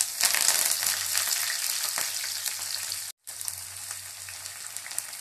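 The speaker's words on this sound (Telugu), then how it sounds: "ఇది ఈ వేడికే వేగుతాయండి" Dried red chillies, crushed garlic cloves and curry leaves fry in hot oil for bitter gourd pickle, giving a steady loud sizzle with a sharp crackle near the start and a brief cut in sound about two-thirds through.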